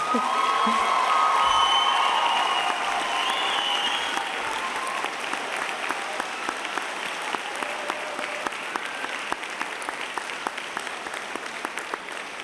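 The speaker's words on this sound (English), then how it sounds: "Let's give them a massive cheer for the amazing support over not just the last year" A large audience at a university graduation ceremony cheers and applauds in a long, full ovation. Whoops fade as the clapping carries on steadily and gradually thins toward the end.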